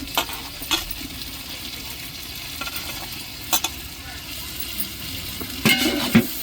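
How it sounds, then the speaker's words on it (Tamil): Tomatoes and chillies sizzle and fry in a pot, a steady hiss of hot oil with occasional stirring scrapes and metallic clinks against the pan, heard close and fairly loud without talk. "இப்போ தக்காளி மிளகாவை சேர்த்துருவோம்."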